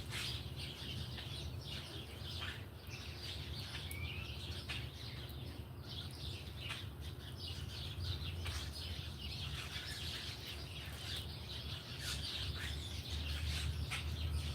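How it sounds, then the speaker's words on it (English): Birds chirp loudly outdoors, a continuous busy chorus of overlapping tweets and calls over a steady low hum, lasting throughout without voices. "Those birds are really saying something, aren't they?"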